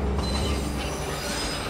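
Railway wagon uncoupling in a train setting, with loud continuous screeching of metal wheels against the rails and a rumbling undertone, close and sustained.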